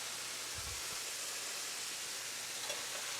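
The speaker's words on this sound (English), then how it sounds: "Frying up. That's what we like. That's that Louisiana style sound." Oxtails frying and browning in a pot: a quiet, steady hiss of sizzling oil throughout, with a brief low clunk near the start, and no talking.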